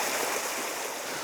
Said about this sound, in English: this is pretty normal for it to like gush water like this